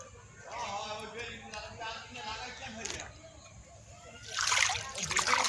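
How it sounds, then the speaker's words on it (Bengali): Water splashes in irregular bursts as a woman washes her face, with sloshing and trickling that grows louder near the end, while voices talk over it. "আমি মুখটা ধুয়ে তারপর তোমাকে ধোয়াবো"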